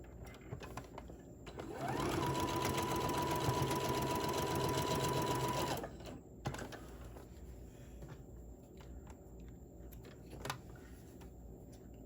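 A sewing machine stitches a seam on a small rainbow mini tote bag in one steady, continuous run of about four seconds, close and fairly loud, with quiet handling noises before and after.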